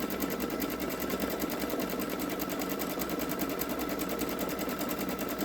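A Babylock Solaris embroidery machine stitches a zigzag outline on a large appliqué patch, a steady, fast mechanical chatter with even rhythm, moderately quiet and uninterrupted.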